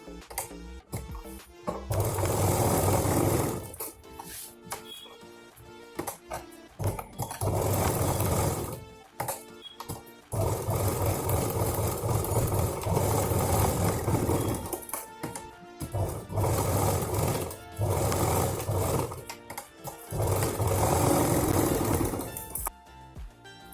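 A sewing machine stitches cloth over sponge for a ladies handbag, running in loud, steady bursts of several seconds separated by short pauses.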